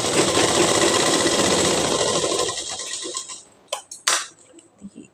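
An electric sewing machine runs in one steady, close whir for about three seconds while stitching ladies' trousers, then stops and leaves a few faint handling clicks and rustles.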